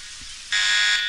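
Alarm in the video game Postal 2, a harsh electronic buzzing tone that cuts in abruptly halfway through and holds loud and steady, after a brief quieter hiss.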